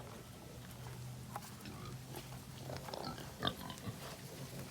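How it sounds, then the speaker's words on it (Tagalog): Mother pig with her nine piglets on a farm just after heavy rain, giving soft grunts and snuffles over a low steady hum, with one short louder squeal or oink near the end. "Yan po si Mama Pig."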